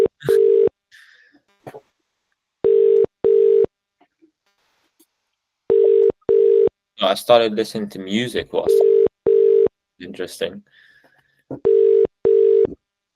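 Ringback tone of an outgoing phone call, paired beeps repeating every couple of seconds, loud and close, with people talking between the tones.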